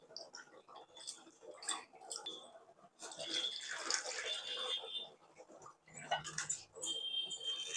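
Tamarind water is poured into a sardine dried-fish curry in close, uneven bursts of splashing and trickling liquid with short pauses between pours.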